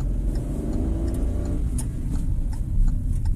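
A car engine pulling steadily and rising slightly in pitch as it accelerates through a gear change in city traffic during a driving lesson, heard from inside the cabin, continuous and fairly close.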